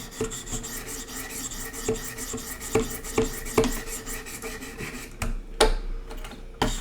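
Knife blade rasping over Wicked Edge Pro diamond sharpening stones in a steady run of back-and-forth strokes, close and fairly loud, with a few sharper scrapes near the end.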